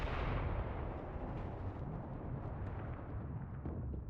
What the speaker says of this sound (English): I want to see how this mortar fire mission takes place here